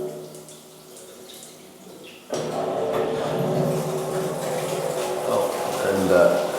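A handheld shower head in a hotel bathroom bursts on suddenly and sprays water hard and steadily, following a quieter stretch, with a person talking over the hiss.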